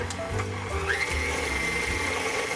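An electric mixer whirs loudly and steadily, beating cookie dough with an egg and vanilla, its motor tone wavering slightly through the short stretch.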